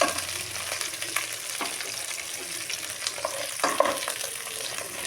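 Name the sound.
okra (bhindi) sautéing in a pan on low heat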